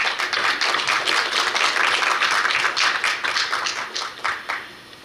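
Welcoming applause for a newly introduced student at a Korea University KU-KIST graduate school entrance ceremony: a crowd claps briskly and continuously, then tapers off over the last second.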